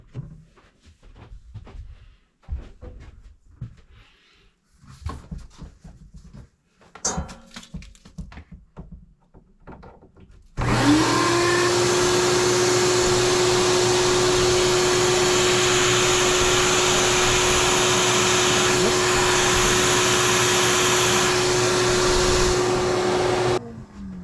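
A vacuum pump is applied to a Mopar carburetor during cleaning to test its boosters, a steady loud whirring hum that starts abruptly partway through after some light handling clatter and holds constant to the end.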